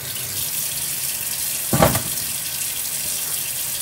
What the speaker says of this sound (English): So I'm just going to clean off 4 pieces of the chicken legs